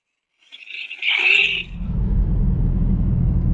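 A BMW 1 Series drives along a snowy road, its engine rumbling steadily and close after a brief higher whir, with a continuous low road drone underneath.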